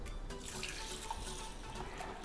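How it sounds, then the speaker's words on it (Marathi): A cup of urad dal is rinsed with water for dahi vada in a home kitchen. A soft, steady wash of running, swishing water carries on throughout, quiet and close, with no talking. "ही डाळ पाण्याने 2 वेळा स्वच्छ धुवून घेऊया।"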